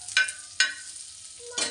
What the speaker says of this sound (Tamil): இந்த ப்ரெட்டை இருக்க நெய்யில் வந்து டோஸ்ட் பண்ணி எடுத்துக்கலாம்